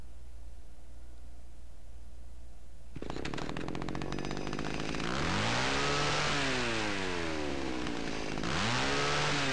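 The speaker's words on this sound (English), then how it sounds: "Chainsaw." Chainsaw from the Cry of Fear horror video game starts abruptly after a low hum, then revs repeatedly with rising and falling engine pitch, loud and close, with no talking over it.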